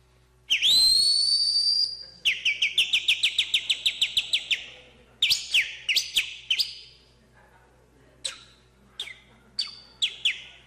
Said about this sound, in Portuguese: Aí eu assobiava, eu comprimia o ar e soltava na ponta do dedo.